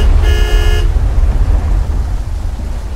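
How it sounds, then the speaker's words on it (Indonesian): A single short car horn toot sounds early, over a steady low rumble of a vehicle interior, then fades to the engine drone. "Setelah aku nyalakan klakson mobilku"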